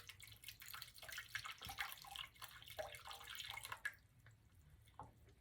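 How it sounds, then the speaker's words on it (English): Room-temperature water pours into white bread flour for a sourdough baguette dough, a faint, close trickling and splashing that tapers off near the end. "Now I'm adding the 200 grams water. It's a room temperature."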